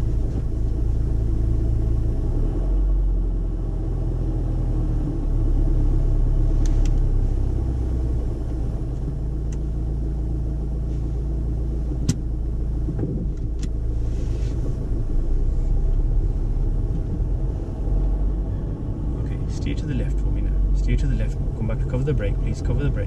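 A car's engine drones in a steady low rumble from inside the cabin as it moves off on a driving lesson, with people talking over it throughout.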